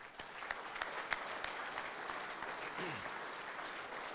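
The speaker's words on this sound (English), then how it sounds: "give them a thunderous round of applause" A trade show crowd claps steadily in dense, sustained applause with a few sharper claps standing out, and a brief voice underneath.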